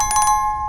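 A short electronic bell chime rings as a notification alert, a quick burst of a few bright, rapid strikes over a steady sustained tone, loud and alone.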